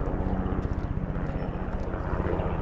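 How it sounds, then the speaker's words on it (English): Helicopter passing overhead during an outdoor walk, a steady rhythmic rotor chop with engine drone, fairly loud and continuous throughout. "The helicopter flying over."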